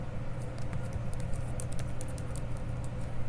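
Rapid, steady key taps from a computer keyboard, typing text into a Word resume table, close and moderately quiet with no voice.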